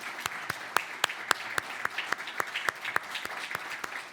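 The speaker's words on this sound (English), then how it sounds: "so we can give them a round of applause" A room applauds team members who stand at a U.S.–Portugal cancer research cooperation event, with sharp, distinct hand claps at a steady rhythm, fairly near and moderately loud, with no talking over it.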